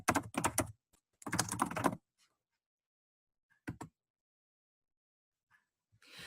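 Computer keyboard typing out a search keyword, two quick bursts of close, clattering keystrokes followed by a lone short tap and near silence, faint, with no talking.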